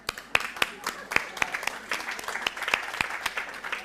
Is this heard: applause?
yes